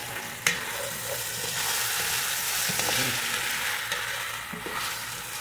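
Garlic fries in a pan while chicken legs sotanghon soup is being made, giving a steady close hiss of oil with small crackles and a couple of light clinks, no voices.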